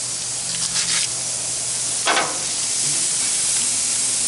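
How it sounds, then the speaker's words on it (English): Burger patties sizzle on a propane grill with a steady loud hiss, broken by a couple of brief sharper spitting bursts near the start and middle. "The sizzle tells you that the grill is ready."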